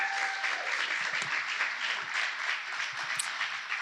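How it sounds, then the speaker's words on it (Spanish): A church congregation applauds for a young musician, a dense, even burst of many hands clapping with a few faint voices underneath, filling the room for several seconds. "Un aplauso para él, por favor."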